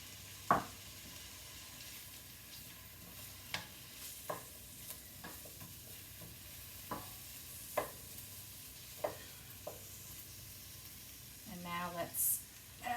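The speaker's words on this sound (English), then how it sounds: "So here we go with the onions. Now let's do our big veg. Actually, let's do our mushrooms next." Onions and mushrooms for sweet and sour tofu frying in a pan: a low, steady sizzle broken by sharp clicks and scrapes of a utensil stirring, with a brief rustling burst near the end.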